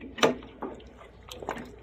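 Chicken feet and pork bones are washed in water, giving a few close wet splashes and squishy knocks spaced irregularly with quiet moments between them.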